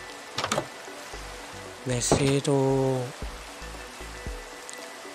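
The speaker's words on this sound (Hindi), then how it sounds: "तो बारिश भी होने लग गई" Rain falling in Minecraft, a soft steady patter under someone speaking Hindi, with game sound effects in between.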